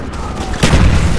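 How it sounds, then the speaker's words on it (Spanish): A loud grenade explosion in Call of Duty: Black Ops multiplayer bursts in suddenly after a brief lull. The heavy, close boom rumbles on for the rest of the moment. "La baja de la granada."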